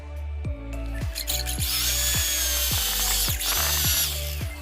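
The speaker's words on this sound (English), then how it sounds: "And now we have to drill a hole in the center height of the timber like this manner." A power drill bores a hole into timber for a floating wall shelf, whining in repeated short bursts with the motor pitch rising and falling, close and loud with no talk.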